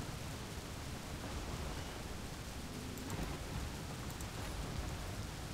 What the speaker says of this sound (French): C'est assez violent les orages.